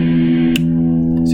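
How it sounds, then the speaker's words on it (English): An electric guitar plays a sustained distorted note through an amplifier simulator with a distortion effect switched on. A brief click or pick noise cuts through the steady, loud, buzzy tone partway in. "here's where I turn on the, flip the switch for my distortion."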